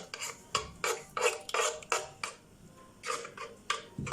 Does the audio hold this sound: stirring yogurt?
yes